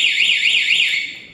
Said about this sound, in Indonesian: ketika motor nanti dikontak, itu alarm akan bunyi.